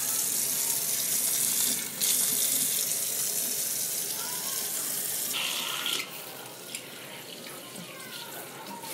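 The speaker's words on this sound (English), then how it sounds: "And then you just want to rinse it out." Tap water runs steadily while rinsing out hair after a wash, a continuous close hiss with a brief dip around two seconds and a slight drop in level later, no talking.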